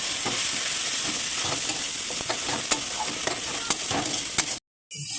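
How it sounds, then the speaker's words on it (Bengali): Chili and turmeric spice paste fries in oil with a steady, dense sizzle and scattered sharp crackles and stirring scrapes, close and loud throughout, cutting out briefly near the end before resuming. "তো এবার দেখছো মশলাটা সুন্দরভাবে কষে আসছে এবং তেলগুলো ছেড়ে আসছে"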